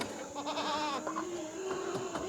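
A goat bleats close by, one long wavering cry followed by shorter broken bleats, heard clearly on a small farm with no voices over it.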